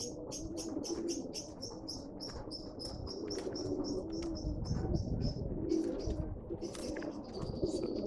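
Pigeons at a pigeon sale coo in quick repeated bursts, several birds overlapping close by, with chirps from other birds and a low background murmur.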